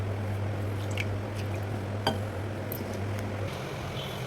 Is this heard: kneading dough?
yes